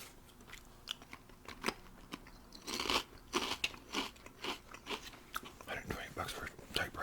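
Potato chips are eaten close to the microphone in a whispered ASMR setting, with repeated crisp, crunchy bites and chewing in an irregular rhythm, fairly quiet overall with brief soft whispering between crunches.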